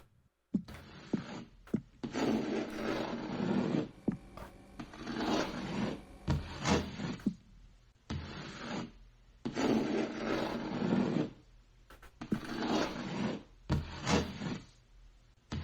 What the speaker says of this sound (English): Is that someone scraping on the other side of this wall?